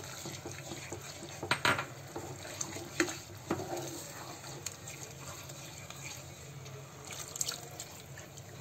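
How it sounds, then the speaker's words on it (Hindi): Water is poured into a pan of dum aloo curry with crushed kasuri methi and coriander leaves, a close, soft splashing pour with light drips and a few utensil clinks, without speech. "पानी ऐड कर देंगे थोड़ा"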